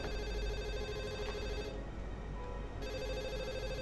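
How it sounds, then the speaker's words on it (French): A plate ringing in a video game, heard as a steady electronic telephone-like bell tone that holds at an even level for the whole stretch over a low background hum. "Il y a une assiette qui sonne."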